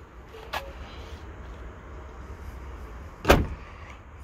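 Power tailgate on a Ford Expedition MAX SUV swinging shut at the press of a button, with a light click early on and then a single firm, close thud as it latches against quiet background hum.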